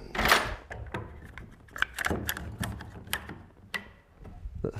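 Quick grip clamp ratcheting tight onto a door on a saw table, a close series of small irregular clicks and clacks.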